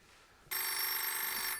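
A telephone bell breaks a near-silent room after half a second and rings loudly and steadily for about a second, with no one speaking.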